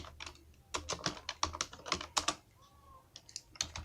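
Keys on a computer keyboard are tapped in quick, irregular bursts of close, crisp clicks, with a brief pause before a few final strokes.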